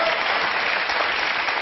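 Studio audience applause in a French television broadcast: a constant, moderately loud wash of many hands clapping, even and unbroken throughout.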